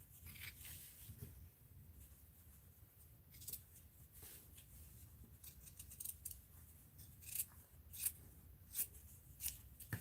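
Scissors snip through fabric during a fabric-cluster craft project, faint and close, with soft handling rustle at first and then a quick run of several sharp snips near the end.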